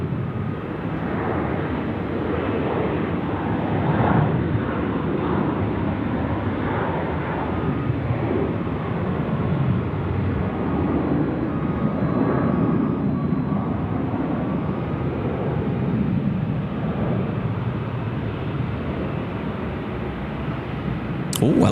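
At night at Sydney Airport, a passenger airliner lined up on runway 16 gives off a steady, loud engine roar that holds level for the whole stretch, with low talk running underneath.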